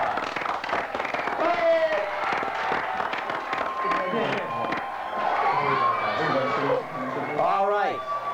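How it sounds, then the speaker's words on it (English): Audience applause and cheering for two quiz teams at the close of a tight match, a dense, steady wash of clapping and crowd noise with voices mixed in throughout. "Everyone give both teams a big round of applause"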